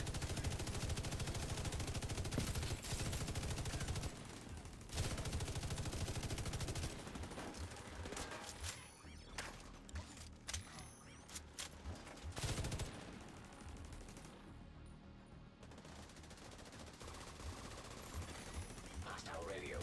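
Automatic weapon fire from The Division: Warlords of New York, dense rapid bursts and volleys with sharp breaks, loud and close, mixed with game sounds and intermittent voices.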